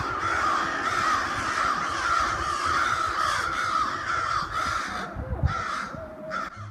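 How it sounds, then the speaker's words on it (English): A flock of crows caws loudly and continuously while mobbing a barred owl in a suburban backyard, with many overlapping harsh calls close by. "these crows chasing away a barred owl in my parents' backyard"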